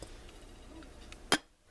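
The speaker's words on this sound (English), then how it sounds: "We're going to put the lid on." A lid set onto a slow cooker after a half cup of water is poured in lands as one sharp clack near the end, against a quiet room.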